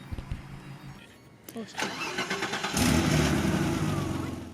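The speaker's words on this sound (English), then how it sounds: "the seller pulls in with the car." A car rolls in and its engine sounds at moderate distance, with cranking pulses followed by a steady, louder running engine. Speech is present underneath.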